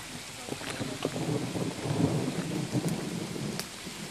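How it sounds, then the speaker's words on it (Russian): Thunder rumbles through steady rain in a tropical downpour, low rolling booms swelling and fading over constant rainfall, fairly close and continuous throughout. "Гром гремит."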